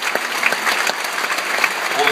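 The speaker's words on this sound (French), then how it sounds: "On peut applaudir ces gens" Audience applause at a film festival opening ceremony, dense even clapping from a large crowd heard close, with speech mixed in.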